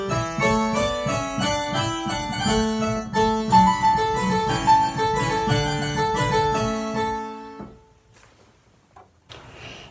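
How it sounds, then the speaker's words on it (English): Synthesizer set to a harpsichord voice playing a busy, bright baroque-style passage of plucked keyboard notes for several seconds, then stopping abruptly into near quiet with faint handling noise. "but the harpsichord sort of sounds like this."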